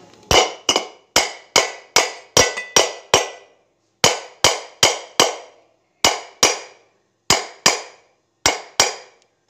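Sharp metallic taps from tools striking a ceiling fan bearing during a home repair ring out in quick bursts of two to five, each with a brief ringing decay, separated by short silent pauses.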